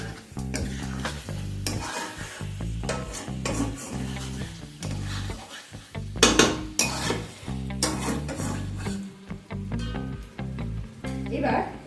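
Chicken thecha masala being stirred and mixed in a pan, with repeated scraping and clattering strokes of a utensil over a low sizzle, rhythmic and close, with a voice speaking over it.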